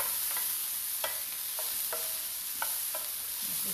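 Mushrooms frying in a small skillet, a steady bright sizzle broken by several distinct scraping stirs and clicks of a utensil against the pan, close and without talk.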